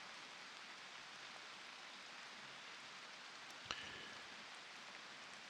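Rain falls outside in the Prologue: Go Wayback! video game, a soft, even hiss of steady drops with one brief sharp click partway through, faint and continuous.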